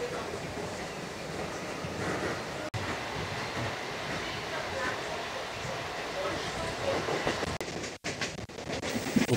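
Howrah to Tarakeswar local train, an electric suburban train near Howrah, running steadily on the tracks with a continuous broadband rumble and wheel rattle, loud and close throughout, with a brief dropout near the end.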